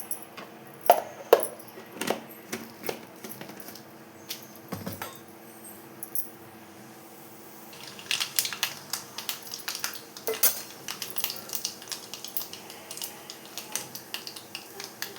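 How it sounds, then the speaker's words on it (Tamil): Mustard seeds, along with chana dal and urad dal, pop and splutter in hot oil in a pan. The crackles come as scattered sharp pops at close range, sparse at first and then denser and more continuous in the second half. "பாருங்க கடுகு பொரிஞ்சிருச்சு."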